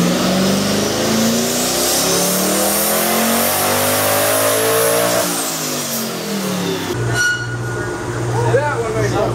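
A twin-turbo 5.0 Ford Mustang revs hard on a dyno, its engine note climbing steadily through the gears before cutting off near the end, then settling to a rough idle. Voices can be heard over the engine.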